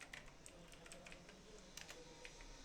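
Keys clatter on a computer keyboard in a quick, uneven burst of taps as a web search is entered in Google Chrome, quiet and close with no voices.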